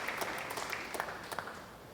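Crowd applause at a university convocation for a graduating student, fairly soft and steady, with a few sharper claps standing out.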